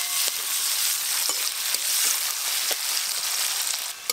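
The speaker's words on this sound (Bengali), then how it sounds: "পেঁয়াজ কুচি কিন্তু আমি খুব বেশি লাল লাল করে ভাজবো না, একদম হালকা করে ভেজে নিয়েছি" Onions fry lightly in a pan with cardamom, cinnamon and bay leaf, giving a steady bright sizzle close up, broken by small spits and pops throughout without any speech.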